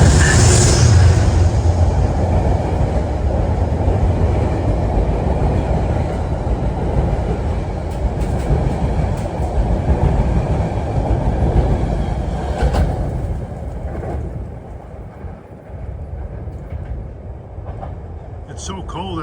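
An outbound Metro-North train passes through Harlem 125th Street station on a freezing night, a loud, close rumble with rattling wheels that holds steady and then fades away toward the end.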